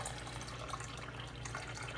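Water is poured into a blender jar for ayran, a steady splashing, trickling stream heard close and continuous for a couple of seconds with no talk.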